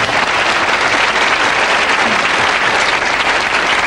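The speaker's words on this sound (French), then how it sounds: "On applaudit." Loud, dense applause from a crowd, steady throughout without a break.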